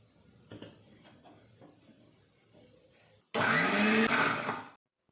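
A kitchen blender grinds fennel seeds, mint leaves and masala in a loud, steady whirring burst lasting over a second. Quieter knocks and handling come before it, and the sound cuts off abruptly.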